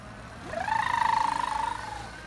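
A Pedego electric bike playing its engine-like sound effect as the throttle is pressed: a single tone that sweeps upward, holds with a pulsing flutter, then drops away, moderately loud and alone.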